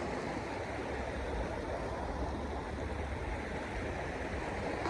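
A river stream near Kasarsai Dam gives a steady, unbroken rush of flowing water, close and even throughout, with no voices over it.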